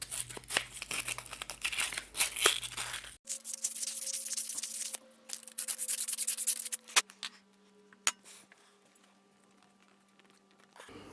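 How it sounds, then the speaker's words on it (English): A cloth rubs clean the front face of a timing pulley on a Ford Puma 1.7 engine, making close, intermittent scrubbing and wiping strokes with a few small metallic taps between them. "just clean the front face of that a little bit"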